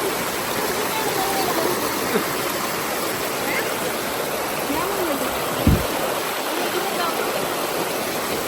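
A hot-stream waterfall in Krabi, Thailand, rushes steadily and loudly, a continuous broad roar of falling water that fills the whole stretch with only a brief thump partway through.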